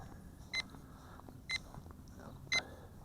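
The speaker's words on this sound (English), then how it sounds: "turn off that beeping in headless mode." A Bayangtoys X5C-1 FPV drone in headless mode emits three short electronic beeps about a second apart, moderately loud over a low steady background hum.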